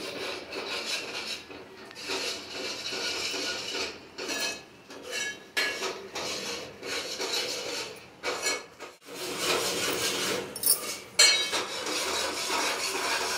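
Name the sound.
stirring egg curry in a pan so it does not burn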